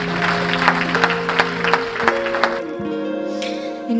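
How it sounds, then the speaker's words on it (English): A short burst of clapping, light and scattered, with a few sharp individual claps and a low murmur underneath. "Let's give a round of applause."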